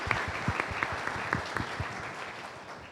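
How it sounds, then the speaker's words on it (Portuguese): An audience at a Brazilian forum applauds steadily for about three seconds, a dense wash of claps with a few sharper hits standing out near the front. "Vamos aplaudir, né, gente?"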